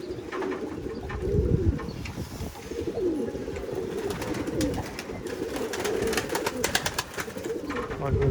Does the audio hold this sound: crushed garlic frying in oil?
no